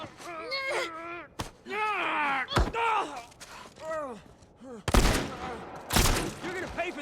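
Gunfire in The Last of Us Part 1 video game: two sharp, loud shots ring out near the end, following groaning and strained voices from game characters.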